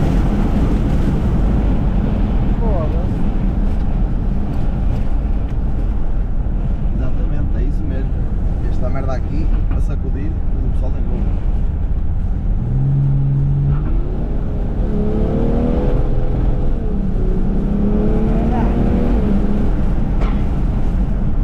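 Engine of a BMW 550d xDrive with Stage 1 remap and a big turbo accelerating hard, a loud sustained roar with rising pitch and heavy road and wind noise, while people talk over it.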